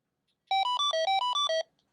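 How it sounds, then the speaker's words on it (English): An EnGenius FreeStyl 2 long-range cordless phone plays a bright electronic ringtone in a retro video-game style, a quick run of eight chirpy beeps lasting about a second, loud and close, with silence on either side. "So it has some kind of old school video game kind of ringtones there."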